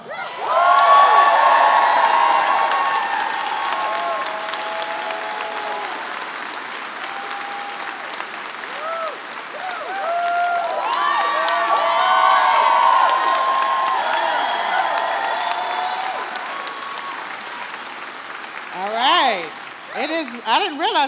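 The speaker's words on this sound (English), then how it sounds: "please give a warm round of applause for the lead organizer of One Pennsylvania, Angel Gober" A crowd at an outdoor health care rally in Pittsburgh bursts into applause, cheers and whoops, rising and swelling in waves, with shouted voices and whistles mixed in before it tapers off.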